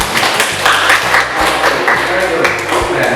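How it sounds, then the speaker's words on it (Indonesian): Short burst of classroom applause from students during an Indonesian teaching-practice lesson, brisk clapping layered with a voice talking over it throughout. "Tepuk tangan."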